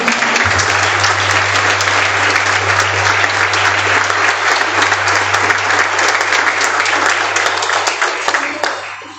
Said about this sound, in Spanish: Aplauso para todos.